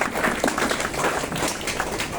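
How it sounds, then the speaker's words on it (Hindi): An audience claps at a university incubation centre session, a dense, moderately loud patter of hands held steady for a couple of seconds, with some voices underneath. "अब लगाओ तालियां।"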